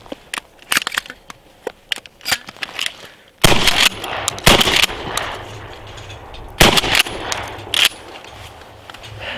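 Pump-action shotgun at a practice range firing shells in quick succession, each blast loud and close, with the metallic clack of the pump cycling between shots and smaller handling clicks before the first shot.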